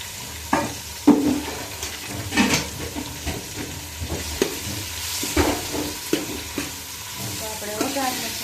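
Grated onion frying in a pan while being stirred, with scattered sizzling and repeated scraping strokes of a spoon, close and moderately loud, no talking.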